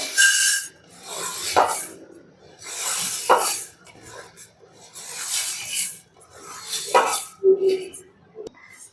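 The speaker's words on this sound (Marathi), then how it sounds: "पहिले धने भाजून घ्यायचे" Coriander seeds dry-roasting in a pan for a homemade spice masala, heard as repeated loud rasping, scraping strokes of a spatula stirring the seeds, with pauses between sweeps and a voice speaking over them.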